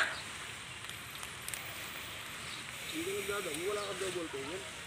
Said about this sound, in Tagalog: umuulan-ulan pa